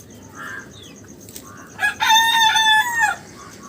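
A rooster crows loudly and close by in one long, rising-and-falling call, after faint chicken clucks over a steady background hiss.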